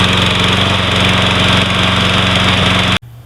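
A Troy-Bilt 21-inch 675 Series lawn mower with a Briggs & Stratton engine that has a miss runs loud and close with a steady throbbing drone, then cuts off abruptly near the end.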